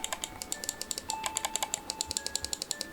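Buttons on a Keychron M6/M7 mouse click rapidly in a quick, close run of crisp, light ticks, about twenty in under three seconds.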